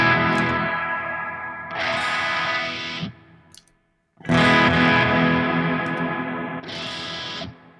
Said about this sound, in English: When I switched over to a new preset, the delay and reverb spill over.